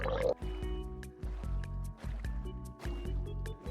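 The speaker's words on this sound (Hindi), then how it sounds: "बोट बना के आइलैंड से दूर जाता हूँ।" Rowing a boat across water in Minecraft: repeated rhythmic paddle strokes with short pauses between them, roughly five or six strokes, steady and fairly close, no talking.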